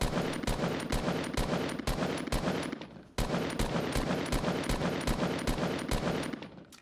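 Rapid automatic gunfire in the Fortnite video game, a dense run of loud evenly spaced shots close by, cutting out briefly midway before a second sustained burst resumes, with no talking.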